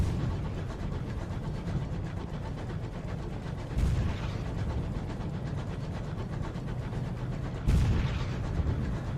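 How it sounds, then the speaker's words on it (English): Heavy gunfire from a ship battle near a port in the video game Sunless Skies, with two loud booming shots about four seconds apart over a constant low rumbling engine drone. "I hear gunfire."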